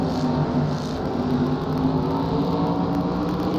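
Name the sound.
onboard MG modified race car engine at Watkins Glen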